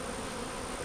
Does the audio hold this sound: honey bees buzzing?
yes